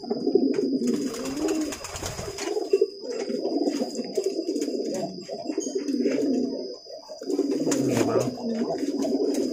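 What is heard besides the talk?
pigeon cooing during courtship display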